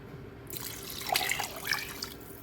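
Water pours into a pot of turkey, sweet potato and kale soup, beginning after a brief quiet moment and continuing as a soft, close splashing stream.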